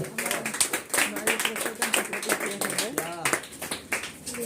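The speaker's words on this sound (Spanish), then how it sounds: "nos dé un aplauso al Espíritu Santo" A church congregation claps during a Spanish-language service, a dense run of rhythmic hand claps that carries on under a speaker's voice.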